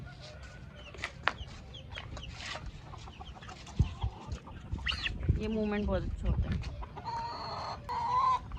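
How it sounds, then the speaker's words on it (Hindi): Chickens cluck and a rooster shut inside a coop gives a drawn-out crow partway through, mixed with a person talking and scattered farmyard clatter. "मुर्गे अंदर से बोल रहे हैं हमें भी बाहर निकालो"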